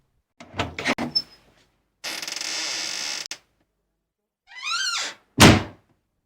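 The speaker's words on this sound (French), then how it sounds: "la porte du bâtiment s'ouvre brusquement" A town hall door bursts open: a cluster of sharp thunks, a sustained grinding scrape, a rising creak and a final heavy slam, each close and loud and separated by silence.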